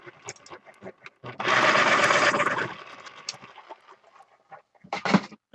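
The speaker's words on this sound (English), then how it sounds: "I gotta sharpen these 2 bad boys." A colored pencil being sharpened in a pencil sharpener, one continuous grinding whir lasting over a second, with small clicks and handling noises before and after.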